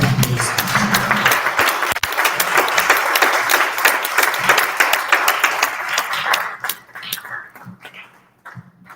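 Round of applause from an audience at a convention in Makeni, dense clapping for about six seconds before thinning out into scattered claps as it fades.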